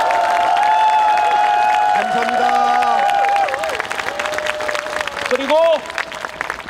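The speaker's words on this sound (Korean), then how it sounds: "박수를 한번 크게 올려주십시오." A large crowd at a national emergency prayer rally claps loudly and cheers, honoring the parents' and grandparents' generations. Someone speaks over the dense applause, which thins out toward the end.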